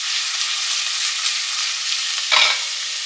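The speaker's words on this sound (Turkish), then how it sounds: "Bunları beraber güzelce kavuruyorum." Chopped onion sizzles steadily in olive oil in a small pot, with a constant frying hiss and a brief louder burst of sputtering near the end.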